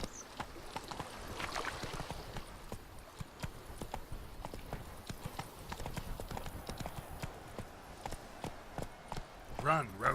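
A horse gallops in The Witcher 3: Blood and Wine, its rapid clip-clop hoofbeats running steadily at moderate volume, with occasional talk over the top.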